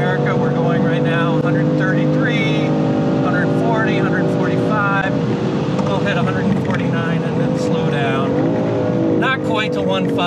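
A BMW M4's engine winds up hard along the long uphill straight at Road America, a loud continuous rising drone with climbing pitch and shifts, while someone talks over it from inside the car.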